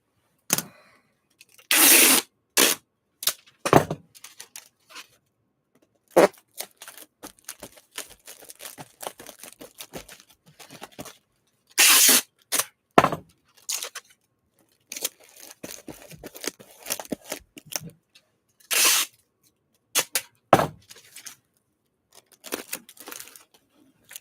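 Packing tape handled while boxing a Singer 201-2 sewing machine: sharp bursts of tape pulling and tearing, crinkles and taps, close by, separated by quiet gaps.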